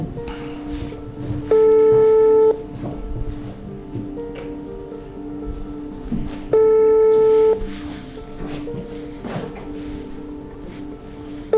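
An electronic telephone line tone sounds twice as steady, loud beeps about a second long, separated by several seconds of quiet room noise with faint rustling.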